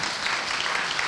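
A brief burst of audience applause in a TV talk-show studio, a dense even patter of many hands clapping.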